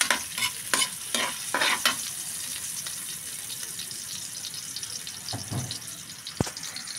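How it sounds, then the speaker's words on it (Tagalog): Garlic and onion sauté for chicken afritada with a steady hiss under quick stirring taps and scrapes near the start. A short run of water follows, then one sharp knock. "Magisa na tayo ng bawang sibuyas."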